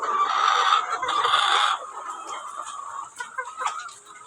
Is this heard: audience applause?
no